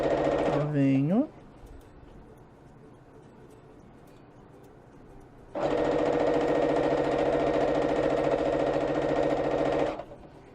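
A sewing machine stitches through a thick blanket, running in one loud, steady burst of about four seconds after a stretch of quieter room noise, with a person speaking briefly at the start.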